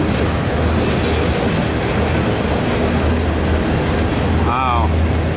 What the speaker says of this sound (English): this train's long. Holy cow, this train's long. There it goes down the track.